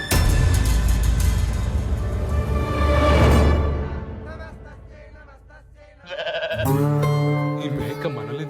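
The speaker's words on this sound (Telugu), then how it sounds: "ఈ మేక మనల్ని తగులుకుందేంట్రా?" Goats bleat in a loud, wavering series close by, then briefly fade and return with another strong, nasal cry.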